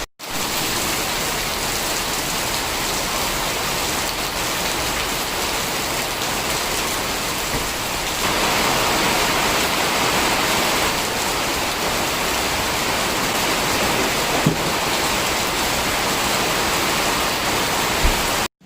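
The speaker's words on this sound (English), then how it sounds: "it just started to rain again" Steady rain falling and pattering on surfaces, a dense continuous hiss that grows slightly heavier partway through, with an occasional drip or tap and no talking.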